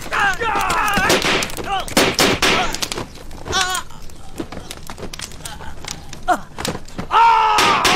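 Gunfire in a period war drama about Red Army guerrillas in Shenfu: sharp bursts of shots mixed with loud shouting and screams.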